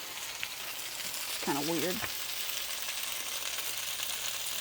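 Meat frying in moderately hot oil on a homestead kitchen stove gives a steady low sizzle throughout, with a short spoken remark over it partway through.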